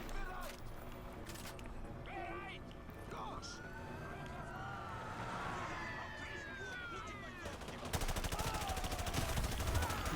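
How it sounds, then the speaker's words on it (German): M4 rifle fire in Call of Duty Modern Warfare 2 Remastered, scattered shots and game effects with whooshing sweeps, then a loud sustained rapid-fire burst near the end; a player talks over the action. "Ja, komm, ich fetze mit dem M4 rum"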